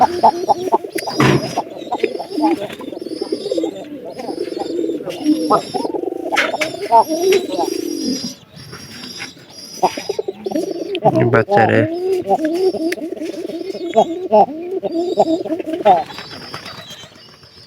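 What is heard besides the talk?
pigeons cooing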